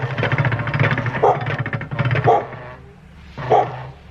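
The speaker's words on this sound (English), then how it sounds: "Fucking neighbor's dogs." A neighbor's dogs bark in bursts, several rough barks in quick runs with short pauses, moderately close and loud, with a mechanical hum underneath.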